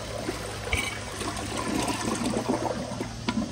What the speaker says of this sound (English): let me do another flush, but I'm gonna hold down the handle for a little bit